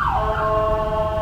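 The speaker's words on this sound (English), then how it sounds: "Sirens and stuff" An emergency siren wails loudly, its pitch sweeping down and then holding a steady tone, with nothing else audible.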